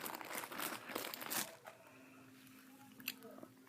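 Crunchy slime squeezed and played with by hand, giving dense crackling, crinkly crunches for the first second and a half before settling into quieter, softer squishing.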